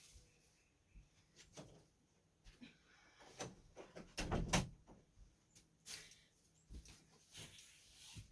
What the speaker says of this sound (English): Oh, I'm going to have to shut the door.